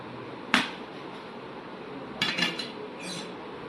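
A knife cuts through a loaf of homemade wheat bread in a few short, sharp strokes: one crisp scrape, then a cluster of quick scratchy cuts and a softer final pass. The sounds are close and fairly quiet, with no talking.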